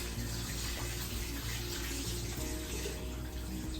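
Rice being rinsed under running water, a continuous close rush and splash of flowing water, steady throughout with no talking.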